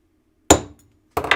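Two sharp metal punch strikes against the end of a workpiece, each a loud ringing hammer blow followed by a short decay, roughly two-thirds of a second apart, close and with no talk.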